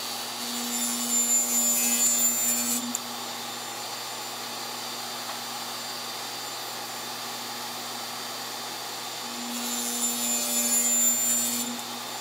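A radial arm saw cuts wooden miters in two loud whining passes, one at the start and one at the end, with a quieter motor hum running between them.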